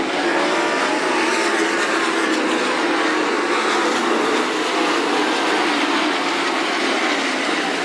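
410 sprint cars racing at Attica Raceway Park, a dense, continuous roar of high-revving engines at full throttle, loud and unbroken throughout with no talk.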